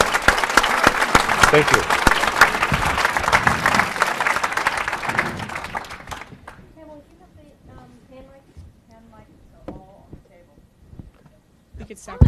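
An audience at a public forum applauds the panel with a dense burst of clapping that fades after about six seconds, followed by quiet room sound and a few spoken words.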